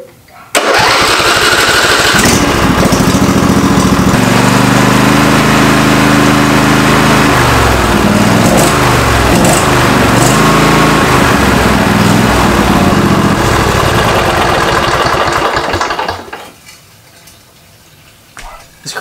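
A 20 hp race mower engine cranks, fires and runs loud and steady close by for about fifteen seconds, with throttle changes midway, then cuts off into a quiet room.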